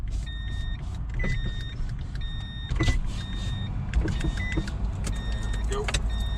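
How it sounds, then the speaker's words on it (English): Car power windows whir down in several short motor bursts, with clicks and thumps between them inside the vehicle and faint background movement. "Let me roll down these windows for the dogs."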